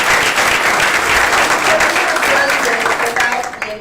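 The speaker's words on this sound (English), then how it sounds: "Please give us a round of applause." An audience at a public school district announcement breaks into a loud, dense round of applause that carries through the whole stretch, easing off only slightly at the very end.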